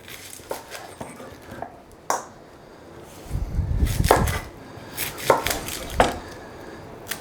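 Onions being chopped on a board during home cooking: a handful of sharp knife strikes spaced irregularly, with a duller thud and some clatter in the middle, fairly close and without talk.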